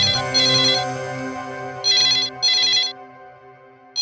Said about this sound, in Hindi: शायद किडनैपर का फोन होगा। नीलेश, फोन उठाओ